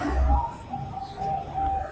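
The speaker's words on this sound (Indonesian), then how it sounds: "perkutut jantan dan betina" A wild zebra dove (perkutut) gives a short, soft cooing call at close range, a few low mellow notes over a quiet background, with no talk.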